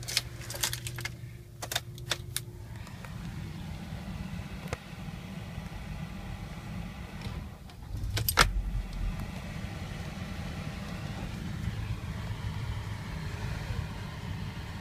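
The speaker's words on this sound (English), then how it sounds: "So I'll just quickly turn the car on for you." A 2010 Hyundai iLoad petrol manual van: keys clink and rattle in the ignition, then around the eight-second mark the engine catches and settles into a quiet, steady idle.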